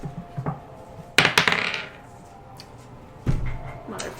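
Dice rattle and clack across a table during a tabletop roleplaying game, two sharp bursts of tumbling clatter with quiet room sound between.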